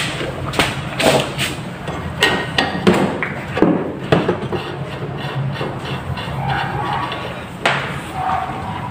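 Metal clicks and knocks ring out as a nut is loosened from the suspension of a Toyota Vios, in short irregular bursts over a steady low mechanical hum nearby.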